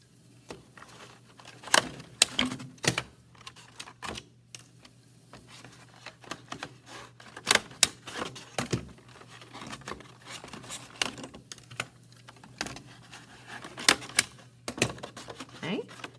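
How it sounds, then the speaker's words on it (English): A paper color wheel is being stapled together all the way around, giving sharp, repeated stapler clacks at irregular intervals, close and fairly loud, with a steady low hum in the background. "staple it. I'm going to go all the way around and do that."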